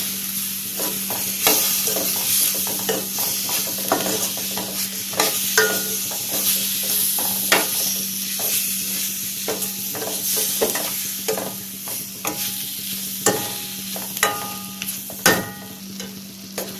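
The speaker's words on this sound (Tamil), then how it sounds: "இப்போ இதில் தக்காளி சேர்த்துடலாம். தக்காளியும் நல்லா வதங்கட்டும்." Tomatoes sauté in a pan for a black-eyed pea (thatta payir) kulambu, giving a continuous close sizzle with repeated sharp scrapes and taps of a stirring spoon, no voices.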